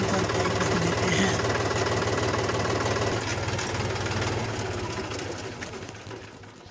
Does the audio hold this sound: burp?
no